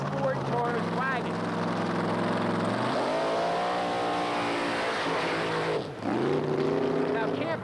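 A Ford Taurus wagon drag race car engine revving hard, its tone climbing in strong harmonic sweeps, dropping and rising again through gear changes, loud and close with a brief dip near the end.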